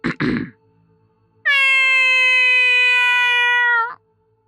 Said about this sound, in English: Silly cat noises for you all.